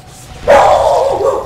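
A dog barks once, a loud close woof that trails into a drawn-out whiny yelp, breaking into a quiet background.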